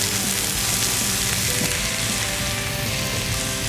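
Tomatoes and masala sautéing in a pan for Hyderabadi egg khagina, a dense, steady sizzle and crackle that stays close and loud the whole time, with no one talking.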